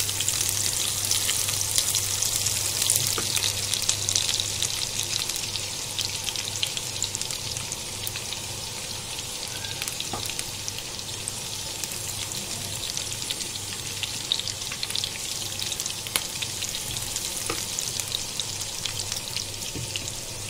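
Garlic and green chillies fry in hot oil in a pan with curry leaves, giving a steady, close, crackling sizzle with light spattering that lasts throughout.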